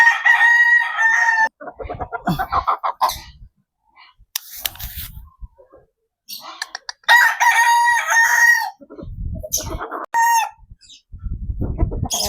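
A gamecock crows loudly and close several times in succession, with brief clucks and quiet gaps between calls.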